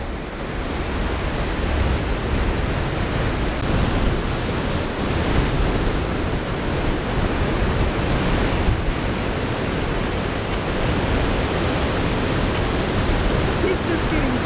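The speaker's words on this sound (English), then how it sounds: "He's just getting pummeled out there by those waves." Ocean surf at North Beach on Padre Island, Texas, roars steadily as waves pound the shore, a loud, broad, continuous wash with soft swells and gusty wind buffeting the microphone.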